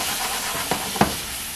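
A splash of wine hits a hot pan of chicken and peppers, giving a steady hiss and sizzle with a couple of brief pops and spatters.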